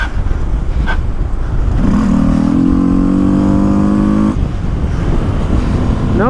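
A Honda CB 300F motorcycle engine revs hard and close during a wheelie session, a steady loud roar whose pitch climbs smoothly through a gear before dropping and settling again.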